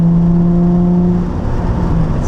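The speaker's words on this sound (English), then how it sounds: "on a Tomei exhaust, but just a muffler delete, I mean, it sounds so good" A Nissan 350Z with a Tomei exhaust and muffler delete revs loudly up close, its engine holding a steady high droning tone that dips slightly and settles, with no talking.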